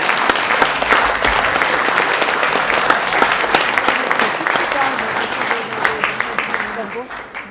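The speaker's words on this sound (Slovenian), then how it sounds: "Lahko še en aplavz, prosim." An audience at a discussion evening applauds, dense steady clapping from many hands filling the room, close and continuous before tapering off at the end.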